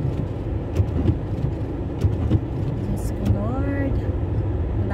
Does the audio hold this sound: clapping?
no